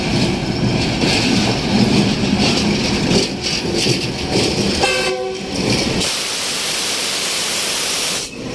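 A train rumbles steadily at a railway station for several seconds, loud and close, with a brief horn blast sounding midway before the engine noise shifts to a brighter hiss near the end.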